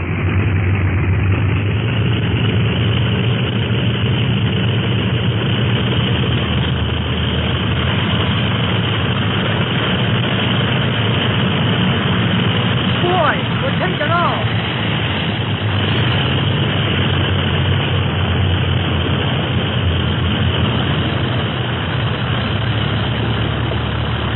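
A propeller airplane engine drones steadily in flight for a radio drama, a continuous, even roar that stays loud and unbroken throughout with no voices over it.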